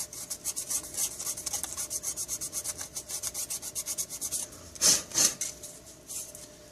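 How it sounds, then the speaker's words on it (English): Sandpaper of 220 grit rubs back and forth across a 1/32-scale plastic dirt modified model body, giving quick rhythmic scratchy strokes close by, with a couple of louder scrapes near the end. "that's just a pretty quick sand in there with some 220"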